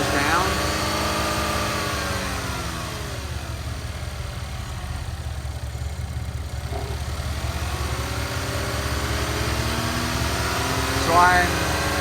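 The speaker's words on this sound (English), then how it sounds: "And as he revs up the engine, the voltage goes down." A car engine runs steadily near the microphone, its tone slowly sweeping up and back down as it is revved, with a continuous rumbling hum throughout.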